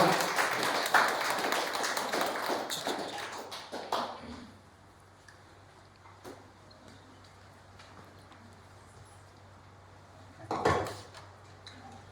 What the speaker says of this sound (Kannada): ಚಪ್ಪಾಳೆ ಹೊಡೆದು ಅವರನ್ನು ಅಭಿನಂದಿಸೋಣ.